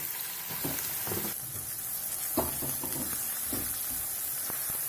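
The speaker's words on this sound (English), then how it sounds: "Heat the oil in a pan. Add in the sliced onions." Sliced onions frying in hot oil in a pan for a Bengali kosha chicken, a constant close sizzle with occasional soft stirring knocks and crackles.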